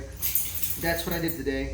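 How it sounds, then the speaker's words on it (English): Dogs whimper and yip in the background, faint and intermittent behind someone talking close by in a home setting. "And you can hear my dogs in the background."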